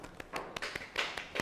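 A lecture audience gives a short, sparse round of applause, a handful of light separate claps in a quiet hall, lasting little more than a second.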